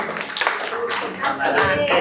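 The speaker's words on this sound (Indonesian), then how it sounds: "Tepuk tangan" A group claps hands in a short, lively round of applause, close and fairly loud, with a few voices audible underneath.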